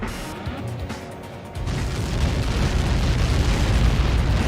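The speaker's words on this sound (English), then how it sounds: "How many got caught in that explosion?" A big impact explosion in the flight combat game Ace Combat 7 starts as a low rumble, then swells into a loud, sustained roaring blast that keeps building.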